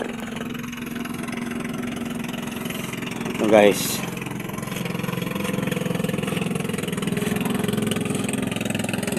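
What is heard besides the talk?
motorboat engine passing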